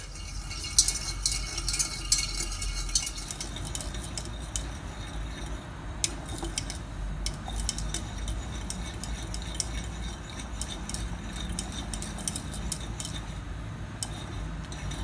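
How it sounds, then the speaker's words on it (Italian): A whisk or spoon stirs lemon-flavoured custard cream as it thickens in a pot on the stove, giving steady soft scraping with small metallic clinks against the pan, close up and continuous, with no talking. "Metto sul fuoco e mescolando faccio addensare."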